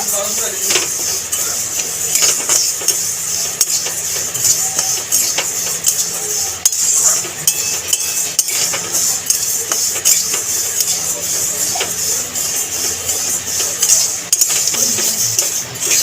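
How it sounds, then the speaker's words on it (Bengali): Moong dal being dry-roasted in a pan, with a spoon or spatula scraping and clinking against the metal in a steady run of small knocks and rattles, while a voice talks intermittently. "ডালটা দেখো আস্তে আস্তে লাল লাল হচ্ছে, আর একটু নেড়ে ছেড়ে ভেজে নিয়ে নামিয়ে নেব।"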